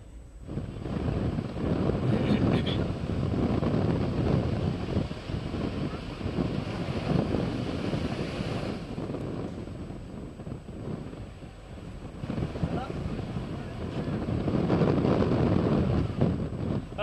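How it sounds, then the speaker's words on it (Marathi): Rough high-tide sea at Marine Drive, Mumbai, during heavy rain: a continuous loud roar of churning surf mixed with wind buffeting the microphone, swelling and easing in waves, with no talking. "माझ्या मागे आपण पाहू शकता मरीन ड्राईव्हचा हा खवळलेला समुद्र आपण पाहताय"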